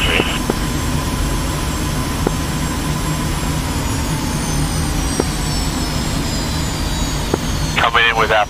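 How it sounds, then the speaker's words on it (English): A jet aircraft in the DCS World flight simulator comes in to land with afterburner on, producing a steady loud roar with slowly descending whine tones, and a short radio voice cuts in at the end. "Coming in with afterburner on."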